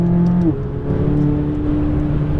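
A McLaren 570S race car drives on a racetrack, its engine droning loud and steady with a pitch shift around the half-second mark as it closes on another car and passes on the inside.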